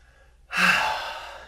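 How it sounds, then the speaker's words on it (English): A single deep breath drawn sharply after a moment of near silence, a close airy rush that swells quickly and then slowly fades, with no speech. "I'm going to be taking a deep breath here"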